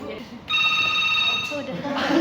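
A telephone rings with a sustained electronic trill, loud and close, cutting in after a moment and then stopping, while people talk around it.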